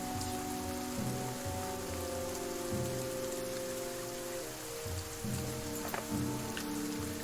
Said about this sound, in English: fat drops of water turn the dirt paths to sucking mud, slowing the caravan.